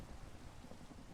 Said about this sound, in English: Lightning and thunder, thunder,